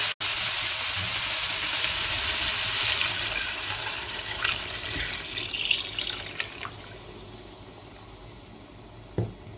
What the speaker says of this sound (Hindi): तो चलिए अब हम इसमें पानी डालते हैं।